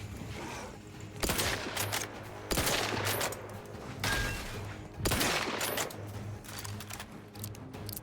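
Repeated bursts of weapon fire in The Outer Worlds 2, several separate volleys of loud, close, rapid shots spaced a second or two apart over a steady background hum, with no talking.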